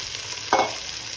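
Fried potatoes and eggs stirred into curry masala for a Bengali egg curry, a short close spatula scrape over a low, steady sizzle, with no talk.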